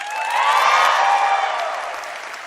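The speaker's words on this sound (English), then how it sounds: "Go ahead, applaud the Madrid campus." A crowd at a new-student convocation and family welcome responds with a brief swell of applause and cheering, a full wash of sound that rises quickly and fades over about two seconds.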